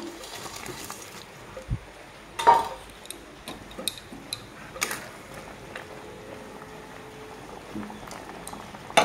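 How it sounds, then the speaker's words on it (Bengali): Curry gravy of potato and red lentil boiling in a pan before lentil dhokas go in, a soft steady bubbling with a few louder pops and clicks scattered through, close and alone. "তো ঝোলটা ফুটলে আমি দিয়ে দিব ধোকাগুলো"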